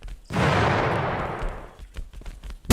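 A loud burst of gunfire and explosion in the video game The Final Station, one sharp blast that decays over about a second, followed by scattered fainter pops and thumps.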